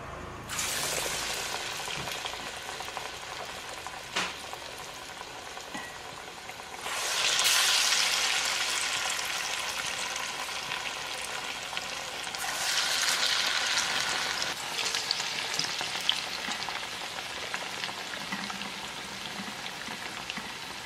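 Vadas deep-frying in hot oil, a steady broadband sizzle and crackle throughout, swelling louder as fresh batter goes in around the middle and again later, close and continuous with no talking.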